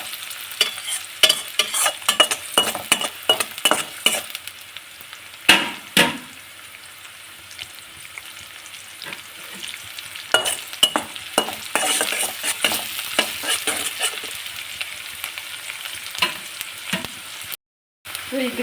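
Paddu batter ingredients frying in oil in a pan while a spoon stirs and scrapes, giving a steady close sizzle broken by frequent clinking, scraping strokes, with a brief dropout near the end.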